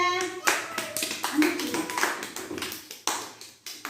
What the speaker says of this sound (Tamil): கிளாப் பண்ணுங்க.